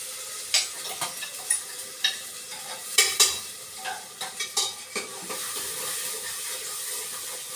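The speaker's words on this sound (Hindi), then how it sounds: "मैं इसके अंदर डाल देती हूँ सारा पिसा हुआ मसाला।" Ground masala hitting hot oil in a pan gives a soft, continuous sizzle with crackling pops and scraping stirs, close by and without any talking.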